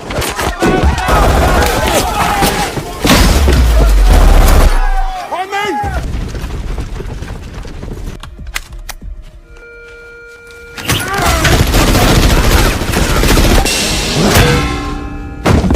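Bursts of loud rapid gunfire with heavy impacts and clatter, broken by a brief quieter stretch of electronic tones before another intense volley.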